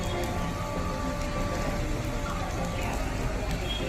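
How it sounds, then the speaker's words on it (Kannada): Heavy, steady rain falling in Mysore, a dense continuous hiss that holds at an even level throughout with no pauses. "ನೋಡಿ, ಬೆಂಗಳೂರಿನಂತೆ ಧಾರಾಕಾರ ಮೈಸೂರು ಮಳೆ."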